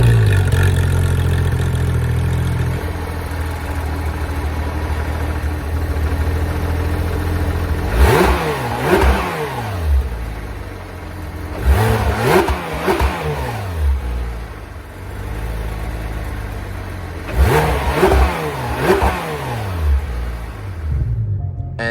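A 2019 Porsche 911 GT3 RS with a 4-liter, 520-horsepower flat-six idles, then is revved three times in sharp bursts that rise and fall back to a steady idle, loud and close.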